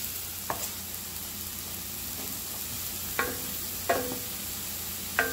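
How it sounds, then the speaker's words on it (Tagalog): Diced apples stirred in a hot pan with onions while making roast pork loin: a steady low sizzle runs throughout, broken by four sharp spoon knocks against the pan. "ngayon po ay pwede na natin ilagay ang ating diced apples. Haluin lang po natin."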